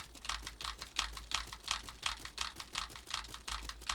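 Rapid, steady keyboard typing, close up, with evenly spaced clacks in a quick, regular rhythm and no talking.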